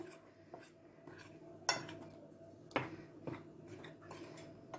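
Spices get stirred into flour in a bowl for breading fish fillets, with a few soft clinks and scrapes of a utensil against the dish, quiet and sparse, with no talking.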